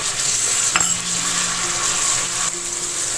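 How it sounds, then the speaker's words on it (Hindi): Steady sizzling of ginger and garlic frying in a hot pan, with a brief clink of a utensil stirring against the pan. "अब हम इसमें अदरक लहसुन ऐड करेंगे और मैक्सिमम 2 मिनट बस इसको भूनूंगी"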